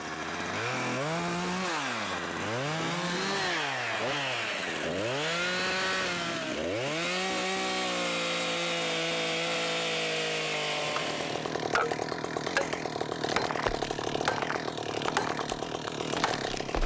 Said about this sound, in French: tu peux me passer ma tronçonneuse, s'il te plaît?